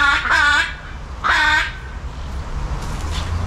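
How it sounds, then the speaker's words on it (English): Large blue macaws give two harsh, nasal squawks about a second apart, each sounding fairly close, over a steady murmur of outdoor background noise. "Huge blue parrots. Macaw."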